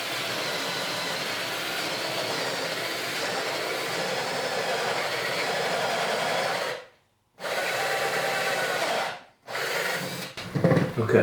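Drill boring a hole through the wooden end pin block of an acoustic guitar while fitting a passive pickup, a steady loud whirring grind that cuts out twice briefly and restarts, with no talking.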